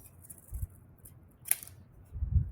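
Scissors snipping through creased, folded paper to trim a square, a few quiet separate cuts with a sharp crisp snip in the middle, close up and alone.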